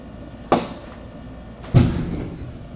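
Fireworks going off outside a house, two sharp booming bangs about a second apart, the second heavier with a lingering rumbling tail, heard at a distance without any voices.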